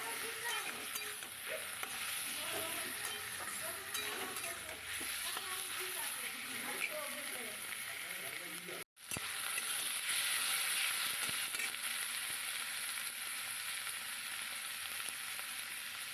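Tomato added to onion paste frying in a pan, a dense continuous sizzle with occasional stirring clicks, steady and moderately loud, broken by a brief dropout midway.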